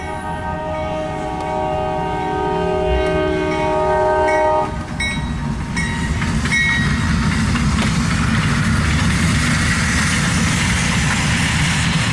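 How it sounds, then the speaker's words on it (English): A snowplow train sounds a long, loud horn blast, then rumbles steadily past nearby with clattering wagons continuing to the end. "Just a snowplow train."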